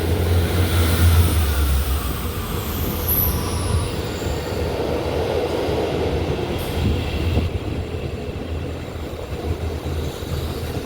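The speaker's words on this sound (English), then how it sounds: "Class Engine 159 South Western Turbo and another Class Engine 159 South Western Turbo on the South Western Railway, coming into Exeter Central" Two Class 159 South Western Turbo diesel trains on the South Western Railway pull into Exeter Central on a hot day. There is a continuous low engine rumble and wheel noise, with high squeals from the wheels and brakes, heard close by with no talking.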